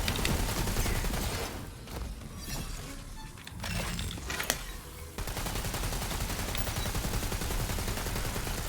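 Assault rifle gunfire in the video game Tiny Tina's Wonderlands, sustained rapid bursts that run almost the full clip, loud and dense, with a brief lull midway before firing resumes.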